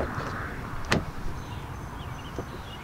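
Car door of a 2020 Ford Explorer or Kia Telluride opening, a single brief latch click and clunk amid quiet outdoor ambience, with a few faint softer clicks afterward.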